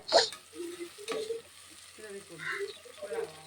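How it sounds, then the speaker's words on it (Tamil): Ground shallot, ginger, garlic, coriander and mint paste sautés in a cooker for chicken dum biryani, producing a soft intermittent sizzle with spoon scrapes and a sharp knock at the start. "அது வந்து நல்லா பச்சை வாசம் போகிற அளவுக்கு நல்லா வணக்கி எடுத்துக்கலாம்"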